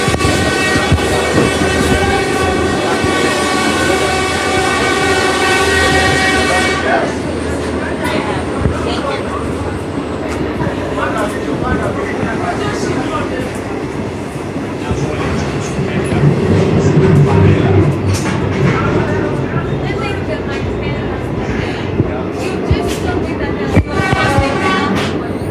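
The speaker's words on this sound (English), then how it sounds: "We are experiencing Uganda train." Ugandan passenger train running at speed, opening with a long sustained horn blast, then loud continuous rumbling and rattling of wagons on the rails, heard from on board with a voice talking over it.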